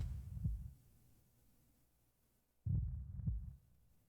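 Heartbeat sound effect in an audio drama: two deep, muffled thumping beats about two seconds apart, each a low double pulse, with no talking.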